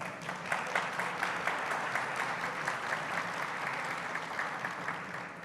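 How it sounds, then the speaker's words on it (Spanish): An audience at a panel on public media content trends applauds a speaker it has just been introduced to. Steady, even clapping from a sizeable crowd carries through the whole stretch, with no talking over it. "Un aplauso para él, por favor."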